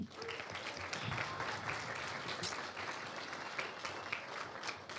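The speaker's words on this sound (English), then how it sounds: "Let's give our graduates a final round of applause." Quiet, steady applause from a graduation audience at a university winter multicultural ceremony, a dense even patter of clapping lasting throughout without a voice over it.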